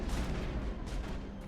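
Explosions rumble through a firefight in the sci-fi game Mass Effect 1, a dense, continuous low roar with booming bursts and crackling blasts filling the whole moment, no talk over it.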